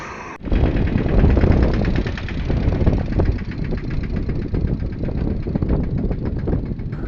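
A tractor engine on a farm, with a tine cultivator hitched, starts up and runs with a steady, rough, throbbing chug. It stays close and loud from start to finish.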